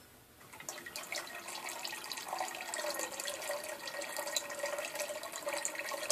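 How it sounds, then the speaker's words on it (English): Lye mixture pours into beer for an orange spice shampoo bar, a steady close liquid trickle that starts after a brief quiet moment and runs unbroken to the end. "I'm going to in with my lye mixture now."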